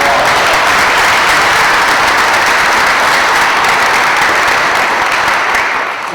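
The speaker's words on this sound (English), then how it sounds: "So I'd like to give them a round of applause." Dense, sustained applause from a large audience at a school's Christian Brothers honoree dinner, filling the room evenly and tapering slightly at the end, with no talking.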